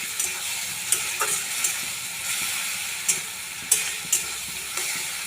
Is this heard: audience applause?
no